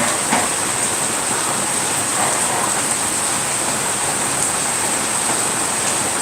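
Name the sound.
heavy rain pouring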